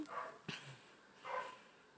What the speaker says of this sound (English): They're barking over there